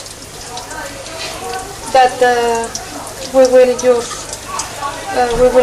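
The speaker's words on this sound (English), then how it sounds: "Now I'm frying the bread" Bread sizzles steadily in hot oil, a constant crackling hiss running underneath a person speaking.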